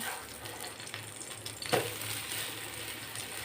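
Bhagar dosa frying in a pan, a steady soft sizzle running throughout with a brief sharper crackle midway, likely as it is flipped.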